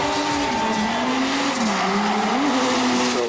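A Mercedes OM606 3.0 diesel engine revs hard toward high RPM, a loud continuous drone whose pitch wavers up and down as the throttle is worked.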